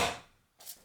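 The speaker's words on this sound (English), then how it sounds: "First, cut the green onions," A knife cuts through green onions on a board in two short, crisp strokes, close and fairly quiet with a brief gap between them.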